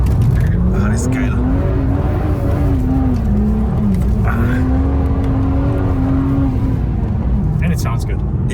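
BMW 1M Coupe with a twin-turbo six-cylinder engine, its tone rising and falling steadily as the car drives under load, loud and close, with people talking over it.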